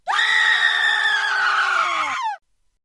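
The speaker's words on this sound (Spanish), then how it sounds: "se escuchó un grito desgarrador a la lejanía" A single long, piercing, harrowing scream from far off, with a sustained, wavering pitch, loud and clear, lasting about two seconds before cutting off into silence.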